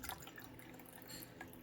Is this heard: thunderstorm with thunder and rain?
no